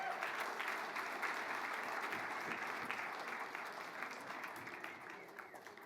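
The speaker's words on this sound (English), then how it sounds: "Let's have another round of applause for Devin Wills." Sustained audience applause fills a hall during the USA Lacrosse Hall of Fame induction ceremony, a dense steady wash of many hands clapping that tapers slightly toward the end.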